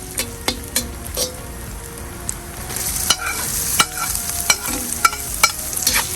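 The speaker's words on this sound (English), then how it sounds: "Alright, now we're gonna add the meat." Meat frying in a kazan for bahsh green rice, sizzling steadily in plenty of rendered oil, with sharp metal scrapes and taps of stirring at an uneven rhythm, close and fairly loud.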